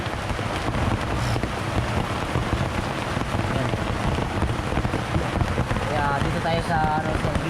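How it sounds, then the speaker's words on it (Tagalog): Heavy rain pours steadily, a dense constant hiss and patter of drops hitting surfaces, continuous throughout with no pauses. "biglaan lang yung ulan mga kailol ah. malakas ng ulan"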